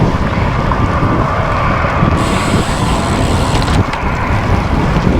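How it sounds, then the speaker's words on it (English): Constant loud wind buffeting a microphone while cycling north into a headwind on FM 2100, a roaring, gusty low rumble with faint mechanical ticking from the bike underneath and no talking. "Riding straight into the wind."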